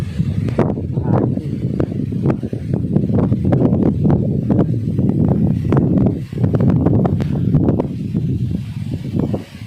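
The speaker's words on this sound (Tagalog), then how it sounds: "Gaganyang mahangin." Strong wind gusts buffet the open field outdoors, a steady loud roar and rumble with rustling and brief dips, no one talking.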